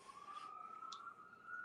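A police siren sounds outside during a robbery nearby, a faint, steady high wail held for under two seconds behind a quiet room.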